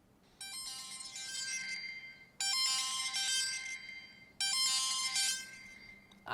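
Amazon Echo Buds 2 earbuds play their locate chime, a bright ringtone-like melody repeating in three clear bursts with short quiet gaps, close and alone in a quiet room.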